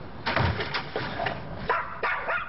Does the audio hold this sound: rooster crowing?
no